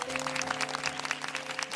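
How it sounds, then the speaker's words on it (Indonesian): Steady applause from a crowd, dense clapping running throughout with a faint sustained musical tone underneath. "kasih tepuk tangan dong"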